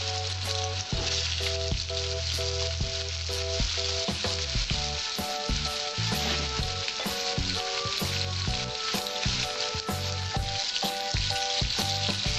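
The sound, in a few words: potatoes frying in a pan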